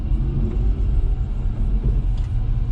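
A Daihatsu Hijet kei truck with a small 660cc engine pulls away in second gear, its low engine rumble steady and close throughout, with no pauses or talk.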